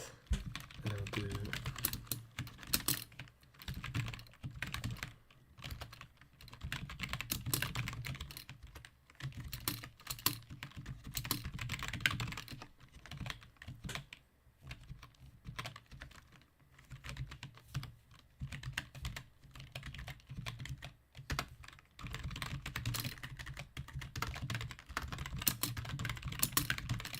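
Steady typing on a computer keyboard at a mini PC, dense clattering keystrokes close to the mic running continuously with brief pauses, no talking.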